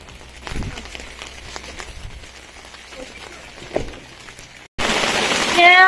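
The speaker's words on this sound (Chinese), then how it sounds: "天啊，下冰雹了，下冰雹了！" Hail during a mountain storm in Tibet, heard outdoors on a motorcycle trip: scattered light taps over quiet ambience, then an abrupt loud, dense pattering roar of falling ice that keeps building.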